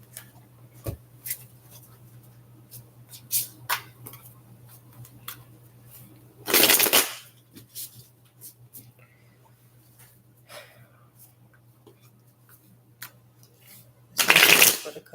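Light Seers Tarot cards are shuffled up close, with two loud riffling bursts and scattered soft taps and card handling between them, over a faint steady hum.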